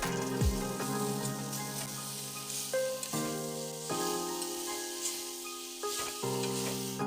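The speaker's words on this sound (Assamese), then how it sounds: "এতিয়া এইখিনি মিক্স কৰি ভালদৰে ভাজি লম" Chopped green plantain frying with mustard in a pan gives a steady, soft sizzle under a faint background tone, with a few light stirring scrapes and no talk.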